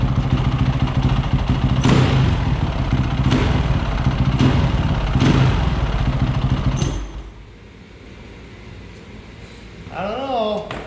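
Honda CRF450R motorcycle engine with a suspected air leak, idling close with a steady rough rumble and periodic bursts, then cutting off abruptly, followed by quiet and a short spoken remark.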